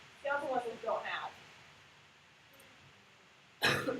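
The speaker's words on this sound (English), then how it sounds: "Sorry guys for my cough." A single sharp cough bursts out near the end of a classroom lecture on cardiac muscle cells, following a stretch of quiet talk and a long pause.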